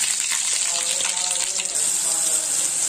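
Mustard seeds, urad dal and curry leaves sizzle in hot oil in a pan for raw banana fry, a steady close hiss with faint crackles and a watery bubbling texture.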